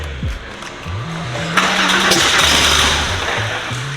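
A Porsche 964's engine cranks with a rhythmic starter churn, then catches and runs roughly with uneven revving, loud and close, with no voices.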